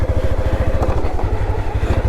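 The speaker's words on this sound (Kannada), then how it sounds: "ಹೆವಿ ಆಫ್ ರೋಡ್ ಆಯಿತು ಬ್ರೋ. ಗಾಡಿ ಎಳ್ದಾಡ್ತಾ ಇದೆ." A motorcycle labors off-road through heavy mud on an early-morning ride near Kabini, its engine thudding loud and steady at close range with a rapid, continuous pulse and some rattling.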